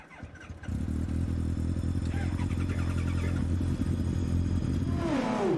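A powerful twin-engine, rear-wheel-drive sports car fires up and roars as it accelerates hard, loud and close, with a voice talking over part of it.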